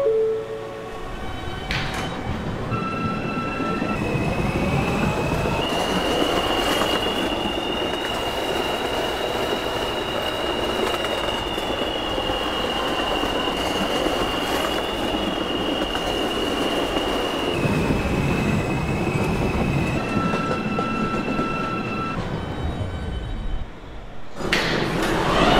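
An R160A M subway train in the Roblox video game runs between stations, a steady loud rumble with a rising and falling motor whine across the middle stretch, brief door sounds near the end.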